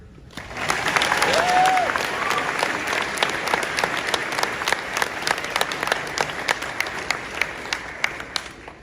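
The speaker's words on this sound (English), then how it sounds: "let's give them a round of applause because we all deserve it." A graduation crowd for the class of 2022 bursts into applause, swelling quickly into loud, dense clapping that holds steady, then thins slightly into more distinct individual claps toward the end; a brief whistle or cheer rises early.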